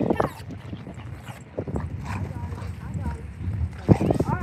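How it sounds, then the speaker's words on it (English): Dogs playing outdoors make scuffling movement with occasional yips and whimpers, mixed with people talking nearby and a sharp knock near the end. "So we got our dogs playing."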